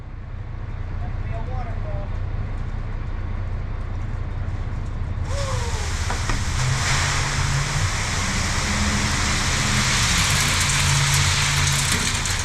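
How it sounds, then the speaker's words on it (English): Rain falls during a wheat harvest, a continuous hiss that grows sharply louder about halfway through, layered over a low engine rumble from farm machinery. "It's raining, not the kind of raining I wanted today."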